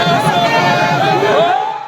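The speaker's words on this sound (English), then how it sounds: "The governor was welcomed by a crowd of excited supporters at the airport." Excited crowd of supporters welcoming the governor at an airport, a loud burst of cheering, whooping and shouting voices close by.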